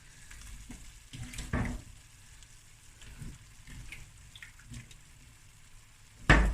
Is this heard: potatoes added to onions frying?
yes